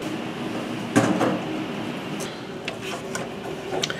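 Front cover of a Mascot FT series residential boiler being taken off, a sudden plastic-metal clunk and scrape followed by softer rattles and handling knocks nearby, no talking.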